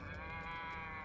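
Low mooing bellow from the cow-like enemy robots in Metal Gear Rising: Revengeance, a steady droning cry over a dense layered game soundscape, held continuously for about a second.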